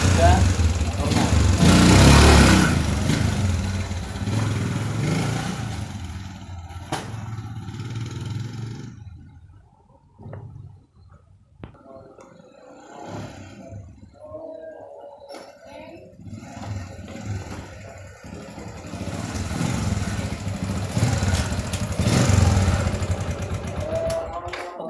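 A Yamaha Jupiter MX motorcycle with a faulty clutch runs close by, its engine loud at first, dropping to a quieter idle midway, then rising again.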